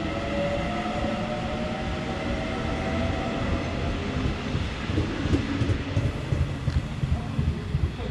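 A Suin-Bundang line train approaches Handaeap station, a flat platform shared with Line 4. A steady, loud rumble of rolling wheels and motor hum runs throughout, with rising clatter toward the end and no voices.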